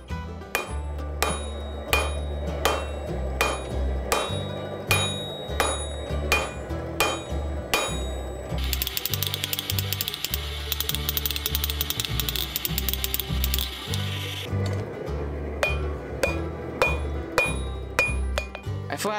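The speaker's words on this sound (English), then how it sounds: "I flattened the tip on the diagonal, then I used the heel and toe of my hammer to shape each side of the leaf." Hammer forging a steel branch-shaped bottle opener on an anvil, loud ringing metallic blows in a steady, evenly spaced rhythm, close and clear, with a stretch of bright continuous grinding-like hiss partway through.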